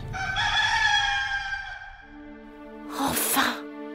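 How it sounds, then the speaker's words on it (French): A rooster crows at dawn from a farmhouse, one long drawn-out cock-a-doodle-doo, followed by a softer, lower sound and a short noisy burst near the end. "Le chant du coq"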